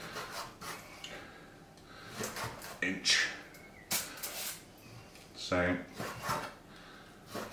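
A sharp knife cuts smoked beef chuck into inch cubes on a board, making intermittent close slicing thuds and scrapes under a man's speech.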